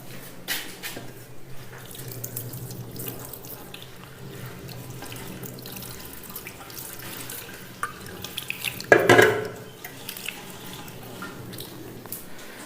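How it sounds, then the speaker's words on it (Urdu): A tap runs while hands are washed during preparation for a ritual washing of the dead, a steady faucet stream with a louder splashing burst near the end, close and without talk. "اس کے بعد جو ہے نا وہ آپ اپنے ہاتھ دھو لیں"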